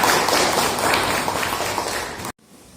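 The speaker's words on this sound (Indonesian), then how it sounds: "tepuk tangan buat kita semuanya" A classroom of students bursts into steady, dense applause that fills the room for a little over two seconds, then cuts off abruptly into near silence.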